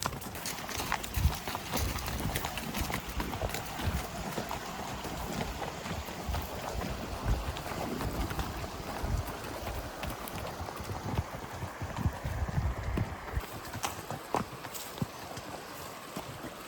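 Horse hooves clop along unevenly at a slow walk through a creek, mixed with splashing and wind rumble against the microphone, with no talking.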